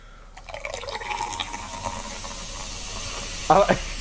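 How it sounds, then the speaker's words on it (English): Root beer fizzing as it is poured and mixed, a steady close carbonation hiss with a louder bubbling burst near the end. "you can really hear the fizz"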